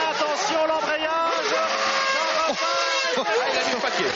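A Formula 1 car engine revs hard in the pits at the 1993 Italian Grand Prix, a loud, close, sustained high-pitched scream with quick dips and surges, a commentator's voice running over it.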